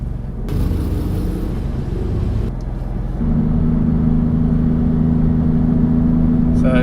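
A Maserati MC20 sports car on Bridgestone Potenza Race tyres pulls away on a race track toward the pit lane. Its engine grows louder and settles into a strong, steady close drone.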